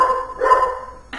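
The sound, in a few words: dogs barking at home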